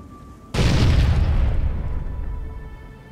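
A thrown grenade in Fallout 3 detonates with one sudden heavy boom, close and loud, then a long rumbling decay fading over a few seconds.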